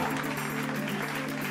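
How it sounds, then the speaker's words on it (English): Studio audience applause on a talk show, a brief steady burst of clapping from a room full of people with a faint murmur of voices underneath. "Give yourselves another round of applause"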